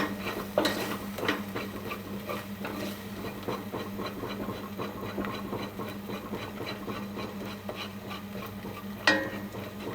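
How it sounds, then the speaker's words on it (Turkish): A spoon stirs thickening ezogelin soup in a pot, making a steady run of soft scraping and tapping strokes under a low background hum, with a couple of sharper knocks. "O yüzden kaşıkla devam edeceğiz karıştırmaya."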